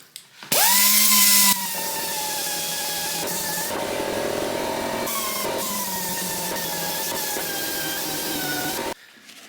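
A power sander whirs steadily against oak wood, sanding to 180 grit, for several seconds, loud and close, with a brief higher whine at the start before settling.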